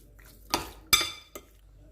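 A utensil clinks sharply three times against a bowl while a chicken marinade of salt, black and white pepper, crushed chili flakes and cumin is mixed, with quiet gaps between the strikes.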